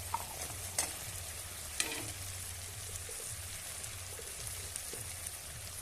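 Spice masala for a duck curry sizzles steadily in oil in a pan while a spoon stirs and scrapes through it with a repeating rhythm, a close crackling fry with occasional sharper taps.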